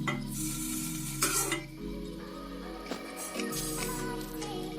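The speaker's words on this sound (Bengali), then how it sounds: "এইভাবে আলু বেগুনগুলো সুন্দর করে ভাজা হয়ে গেল।" Fried potatoes and eggplant are stirred in a pan, with soft scraping and a faint sizzle over a steady low hum and the occasional light clink of a utensil.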